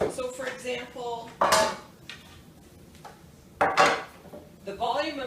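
Metal cooking pans get handled and knocked together in a kitchen, giving a few sharp clanks and rattles separated by quieter gaps, close and fairly loud.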